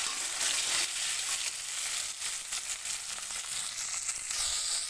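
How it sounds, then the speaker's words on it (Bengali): Small puti fish fry in hot oil in a wok, giving a steady, dense, close sizzle that runs the whole time with no voices. "পুঁটি মাছ ভাজার সময় তেলটা কিন্তু আগে প্রথমে ভালো করে গরম করে নেবেন"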